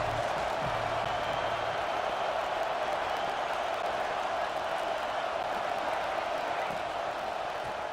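A college football video game stadium crowd, Michigan at Alabama, roars as a steady, dense wall of noise with faint cheering, while a commentator's voice runs over it.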